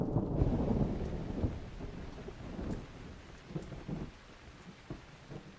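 A cartoon thunderstorm opens with a loud, close thunder rumble that rolls away into steady rain, with softer rumbles and drips trailing off.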